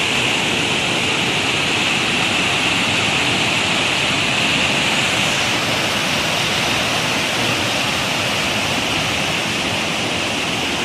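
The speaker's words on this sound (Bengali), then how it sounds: "ওভার পানিটা এদিক দিয়ে যাচ্ছে এবং পানিটা কত সুন্দর দেখা যাচ্ছে মানে পানির সাউন্ডটা দেখছেন" Water rushes and crashes over rocks in a steady, full, hissing roar, loud and continuous with no voices, like a small waterfall or fast stream close by.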